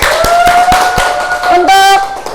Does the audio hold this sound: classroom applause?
yes